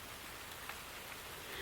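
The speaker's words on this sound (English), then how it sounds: "A few drops of rain began to fall." Rain falls steadily in a soft, even hiss of drops, faint and continuous, with a few slightly louder individual patters.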